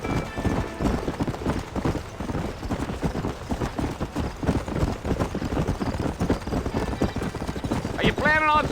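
Hoofbeats of a horse galloping in the Red Dead Redemption video game, a steady fast clip-clop rhythm throughout, with a brief whinny near the end and game voices over it.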